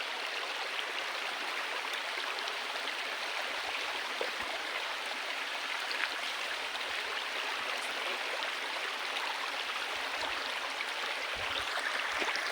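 A mountain stream in Baungon, Bukidnon rushes steadily and evenly throughout, a dense broadband wash of flowing water heard close and alone with no voices.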